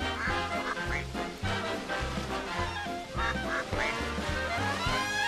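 Several ducks quack repeatedly in a rhythmic series of loud, close calls, a game sound effect from Wonderbook: Diggs Nightcrawler heard alone without talk.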